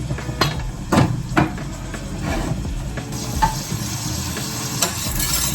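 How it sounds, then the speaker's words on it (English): Onions and seasoning fry and sizzle in a pan for marry me salmon while being stirred, with a steady crackle broken by several sharp scrapes and clanks of the utensil against the pan, close and fairly loud, no talking. "stir it in, let all of it cook"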